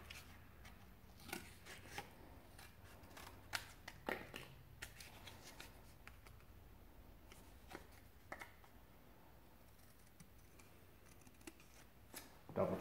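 Scissors snip repeatedly through paper in a quiet workshop, the short sharp cuts coming in irregular bursts with soft handling rustle between them.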